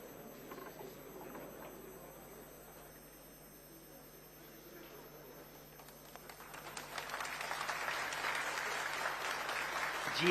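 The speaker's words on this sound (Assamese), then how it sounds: "হাত চাপৰি শুনা গৈছে" Applause fills mission control during the Chandrayaan-3 powered descent, starting as a low steady background and swelling into dense, loud clapping over the final seconds, with a faint electrical hum underneath.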